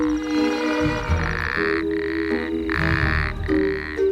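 Arabian toad calling in the desert night after rain, a loud close series of pulsing buzzy croaks in repeated bursts with brief pauses between them.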